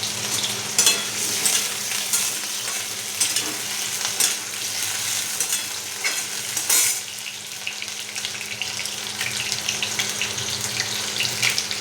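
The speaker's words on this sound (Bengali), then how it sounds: "সয়াবিনটাও ভাজতে দিয়ে দিলাম, সবগুলো ভেজে নিলাম।" Soybean chunks frying in hot oil on a small gas stove, a steady close sizzle that runs throughout with brief stirring scrapes and no voices.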